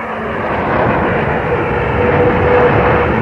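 Military jet aircraft launching during the opening night of Operation Desert Storm in 1991, a loud continuous broadband roar that holds steady and swells slightly throughout, with no voices.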